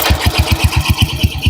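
A 1948 Motobécane D45B motorcycle engine, kick-started and just caught, putters in a fast, even beat of low thuds, close and loud with no talk.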